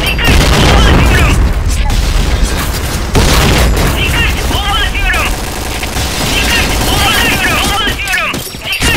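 Grenade explosions and heavy gunfire in the shooter game Point Blank merge into a continuous, loud roar of booms and bursts, with shouted voices and chirpy game sounds layered over it.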